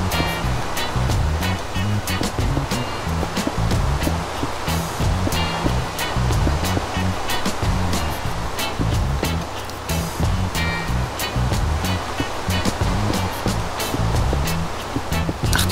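Water flowing and rushing in the Minecraft game, a loud, continuous churning wash like surf that runs steadily throughout, with no talking.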